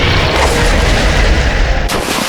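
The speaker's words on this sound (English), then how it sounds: "Choose a solar cannon." A solar cannon attack in the video game Manamon produces a loud, sustained blasting roar with a rumbling low end that cuts off sharply near the end.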